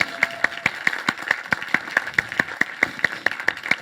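An audience at a talk gives a brief, fairly sparse round of applause, with distinct individual claps in a quick steady rhythm at moderate loudness.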